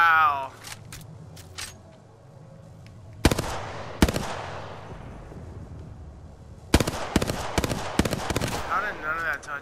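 Apex Legends gunfire crackles in two single sharp shots, then a dense cluster of rapid bursts, loud and close over a low game-ambience rumble and occasional speech.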